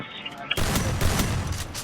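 Gunfire erupts in a shooting video game, a dense burst of rapid shots following a single sharp crack, loud and continuous, with a voice audible beneath.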